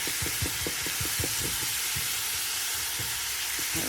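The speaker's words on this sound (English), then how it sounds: "Right, we've got the mince browning off." Minced beef browning in a pan gives a constant, broad sizzling hiss close by, with soft irregular taps and scrapes from stirring underneath.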